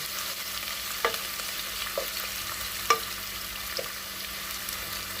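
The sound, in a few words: onions frying in hot oil being stirred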